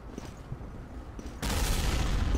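A grenade goes off in the World War II shooter Day of Defeat Source, a sudden loud blast that fills the sound and stays dense to the end after quieter gunfire crackle.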